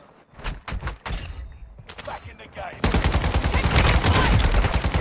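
Rapid gunfire from the Warzone Mobile video game, first in scattered bursts and then a dense, loud sustained barrage of shots, with players talking over it.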